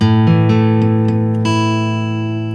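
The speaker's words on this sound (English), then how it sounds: "So if you lean your middle finger, it'll sound like this." A guitar chord picked string by string in a quick run, several notes sounding slightly dull where a leaning middle finger mutes a string, then ringing together and fading.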